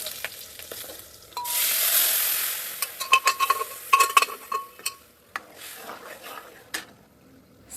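Spices and onion hit a hot pan with a sudden loud burst of sizzling, then fade into quieter frying broken by sharp clinks and scrapes of a utensil against the pan.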